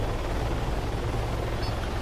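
Helicopter in the military video game Arma, during a night raid: a steady, loud rotor and engine drone fills the whole stretch with a low, even rumble and no talk over it.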